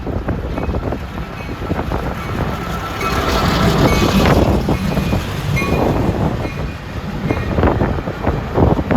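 A Long Island Rail Road train on the Babylon–New York line passes through a snowy station without stopping, a loud continuous rumble and rattle of rail cars that swells midway and carries on to the end, with wind noise mixed in.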